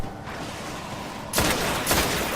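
Two sharp, loud gunshots crack out about half a second apart in the Destiny beta shooter, each leaving a short, bright ringing tail over a steady background hum.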